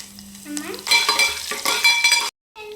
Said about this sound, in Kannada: ಸಾಸಿವೆ ಉದ್ದಿಮೇಳೆ ಸ್ವಲ್ಪ ಜೀರಿಗೆ ಸ್ವಲ್ಪ ಕರಿಬೇವು